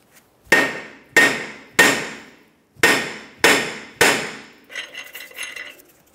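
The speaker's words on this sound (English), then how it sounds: "use a hammer. When using the hammer, we want to try to hit along this area here" Six sharp metallic hammer blows strike a rear brake rotor on a Jeep Grand Cherokee to break it loose, evenly spaced and loud, followed by a softer clattering rattle as the rotor shifts.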